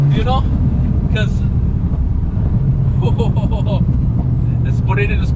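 Subaru WRX STi track build with an anti-lag system, its engine roaring loud and close with bursts of crackling pops and bangs scattered through the clip, while a person talks over it.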